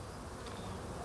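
Honey bees buzz steadily around their hives in early spring, a dense, continuous drone, moderately close and without any voices.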